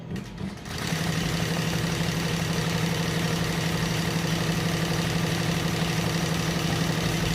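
A computerized embroidery machine runs steadily after a brief start, a continuous loud mechanical drone with a fast, even stitching rhythm and a strong low hum, with no talk.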